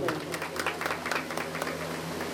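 An audience at a havan gathering gives a short burst of moderate applause to welcome the secretary, with a voice over the dense patter.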